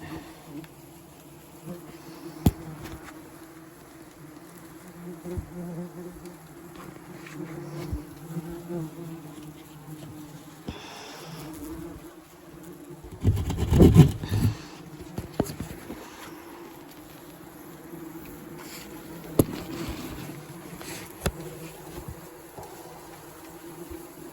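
Yellow jackets hum and buzz continuously around an extracted nest, a dense close swarm with occasional louder passes near the microphone and faint clicks and taps underneath.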